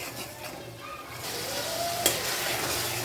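Masala spices sizzle steadily in hot oil as they are stirred in a pan for a prawn and potato curry, a continuous close frying hiss with scraping stir sounds and no talk.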